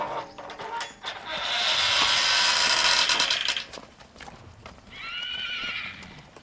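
A Foxtrotter filly foal whinnies twice, a long loud close neigh followed by a shorter one, while hooves clip-clop irregularly nearby and faint clattering sounds in the background.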